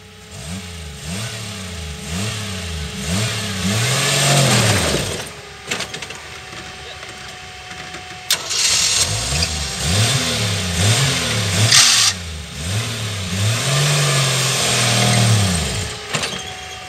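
Off-road vehicle climbing a rock ledge at Shiloh Ridge in Alto, Texas, its engine revving hard in repeated surging bursts, dropping back, then roaring again, loud and close.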